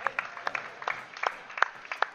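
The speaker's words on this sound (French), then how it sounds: "Et on peut applaudir." A small crowd gives scattered, fairly quiet hand claps after a goal in a Bonzini table football junior U19 classic doubles final, with uneven claps in a loose, brief burst.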